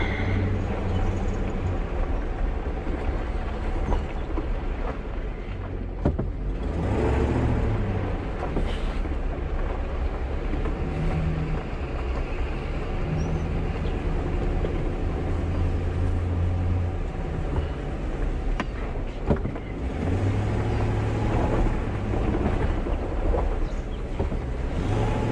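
A vehicle towing a Forest River MSR Boost RV drives off toward the pump-out, starting and stopping with steady engine and road rumble throughout and a few brief surges and bumps, no talking.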